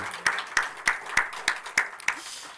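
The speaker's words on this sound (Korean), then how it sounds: "우리 하나님께 다시 한번 영광의 박수 올립시다" Rhythmic unison clapping from a church congregation during a Sunday morning worship service, about eight evenly spaced sharp claps at a steady beat with a little scattered clapping trailing off at the end.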